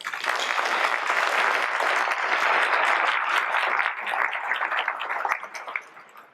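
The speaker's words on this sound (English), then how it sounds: "Let's give all these folks a round of applause." Sustained applause from an audience at a 2021 honors ceremony, dense steady clapping that fills the space and tapers off toward the end.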